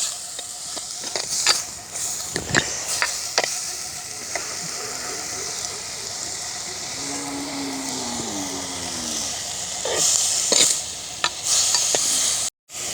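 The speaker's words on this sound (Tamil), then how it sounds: "உள்ளி கருவேப்பிலை மற்றது பெருஞ்சீரகத்தை சேர்த்து கொள்வோம் நல்லா கிண்டி பொரிகிறதுக்கு விடுவாங்க" Garlic, curry leaves and fennel fry in oil with steady sizzling and hiss for a Sri Lankan village-style fish curry. A spoon stirs the pan now and then with scraping knocks, close and continuous.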